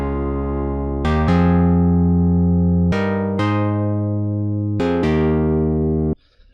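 A bright chord synth, the ARP5 Prophet preset in FL Studio, plays four loud sustained chords. Each has a sharp attack and a long ringing tail, and the last is cut off abruptly.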